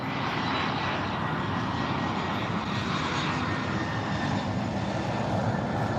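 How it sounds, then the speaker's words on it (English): A Cebu Pacific airplane flies past on its landing approach, a loud, steady engine roar filling the whole stretch without letup. "A plane just flew by."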